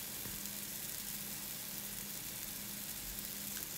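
A veggie burger fries in ghee in an iron skillet, a soft, steady sizzle with faint crackle, low in level and continuous, with no talk over it.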